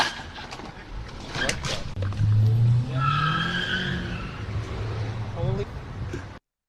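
Tires skid as a car loses grip in a hit-and-run on Hoover Street in Los Angeles, a loud rising squeal lasting a few seconds over steady street traffic noise, with a reporter talking throughout.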